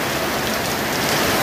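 Steady rain pours down in Nalbari, Assam, a dense continuous hiss of drops on surfaces, loud and unbroken with no voices.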